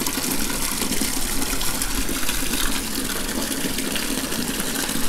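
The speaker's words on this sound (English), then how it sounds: "you can kind of get an idea of how powerful this pump will be. Probably squirt out." An Active Aqua 550 pond pump rated at 529 GPH sprays out a strong stream of water, a loud, steady gushing hiss that holds without pause from start to finish.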